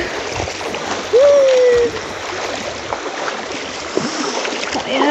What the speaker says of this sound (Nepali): यस्तो चिसो पानी हे भगवान भाग शारदा भाग त्यो पानीमा भाग